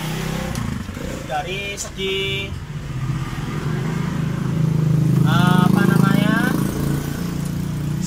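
A small Suzuki fuel-injected scooter engine runs steadily nearby while someone talks over it, the idle rising slightly in the middle.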